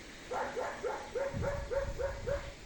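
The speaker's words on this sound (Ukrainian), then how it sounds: "гавкає собачка моя, хтось прийшов" A small pet dog barks at someone arriving, giving a quick run of about eight sharp, evenly spaced yaps at moderate distance, with no talking.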